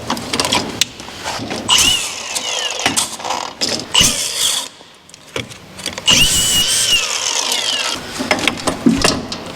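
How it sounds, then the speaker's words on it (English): A grinder works a spot on skid steer hardware during a light installation, with bursts of harsh, high-pitched grinding that start and stop repeatedly, loud and close, broken by short pauses of quieter mechanical handling. "So I'm just gonna grind that spot there."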